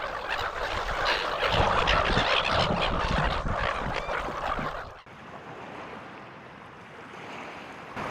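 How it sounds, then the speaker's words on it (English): Many seagulls call beside a beach campsite on New Zealand's east coast, a dense squawking chorus over surf that thins out after a few seconds, leaving quieter waves. "You can hear heaps of seagulls."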